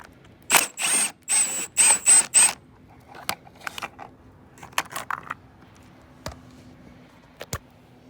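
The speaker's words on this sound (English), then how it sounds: "I'm just going to remove the wheel." A rear wheel being taken off a Toro self-propelled lawn mower, with a run of five short bursts of a power tool whirring, then scattered metallic clicks, taps and light knocks nearby.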